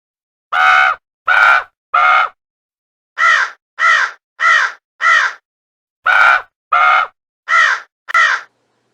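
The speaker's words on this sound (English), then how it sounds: "Can you find the crow?" A crow caws loudly and nearby in harsh, evenly spaced calls: three caws, a pause, four more, another pause, then a final run of four, with nothing else audible.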